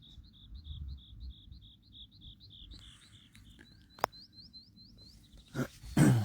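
Out among open farmland fields, a bird gives a long, steady run of short, high chirps, evenly spaced and moderately close, with a few sharp knocks and rustles breaking in near the end.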